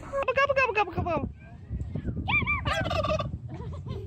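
A turkey gobbles in quick repeated bursts, loud and close, with a person's voice in between and a voice mimicking the gobble.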